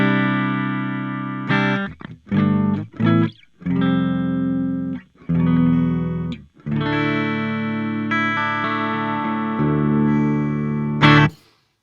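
Bass played with a clean amp tone through a Joyo Bantamp Zombie 2 amp head, recorded direct, gives sustained notes and short phrases with brief pauses between, loud and close with no talking.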